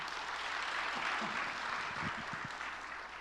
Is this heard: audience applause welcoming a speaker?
yes